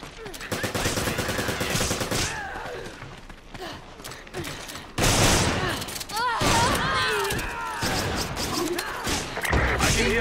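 Gunfire from the video game Resident Evil 5, bursts of shots and crashes sounding loud and close through a busy game mix, with voices and gasps mixed in.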